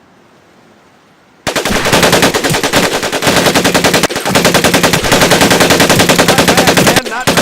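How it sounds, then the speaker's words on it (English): Automatic weapon fire in the Pacific Assault game, loud rapid bursts of close gunfire following a brief quiet start, with short gaps between sustained strings of shots. "Take your time to aim and fire the weapon in short bursts only."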